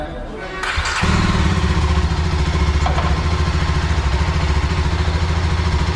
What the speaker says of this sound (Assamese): যেতিয়া মই বাইকখন ষ্টাৰ্ট কৰিম